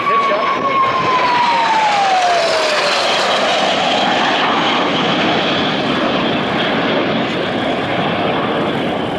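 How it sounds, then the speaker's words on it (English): Three jet aircraft at an air show pitch up and fly past as they set up for landing, a loud continuous engine roar with a falling whine, steady throughout. "on all three of the jet aircraft, as they get set up for landing"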